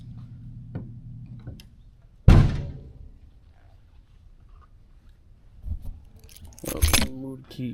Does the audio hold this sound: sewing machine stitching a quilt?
no